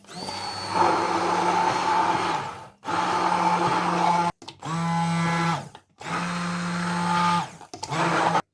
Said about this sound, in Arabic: بعد كده هنبتدي نضرب الخليط ده كويس في بعض